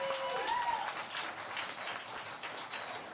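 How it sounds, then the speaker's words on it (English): Applause from the audience at a city council meeting right after a unanimous vote, a steady wash of clapping across the whole stretch, with a faint whistle or voice briefly above it. "I don't normally allow applause"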